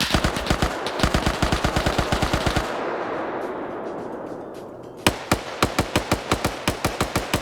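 Gunfire in a PvP shooter match: a rapid automatic burst of sharp, loud shots, a brief rumbling lull, then another fast string of crisp rounds, close and without talk.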